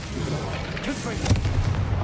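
The Confringo explosive spell goes off in Hogwarts Legacy, a dense rumbling blast with a burst of booms and crackles over constant game ambience, and voices are heard speaking alongside it.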